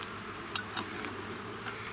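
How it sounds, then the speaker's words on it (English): Honey bees flying around a hive, a soft continuous buzzing hum with a few individual bees passing close by, faint and without talk. "And then the new bees, they orient themselves here."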